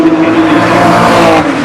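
Vintage race cars roar through the Goodwood Revival chicane, a loud, continuous engine note with steady harmonic whine and no speech over it.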